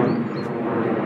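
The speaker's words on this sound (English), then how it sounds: "Noisy ass plane." An airplane flies overhead as a loud, continuous broad roar that holds steady throughout, with no talk over it.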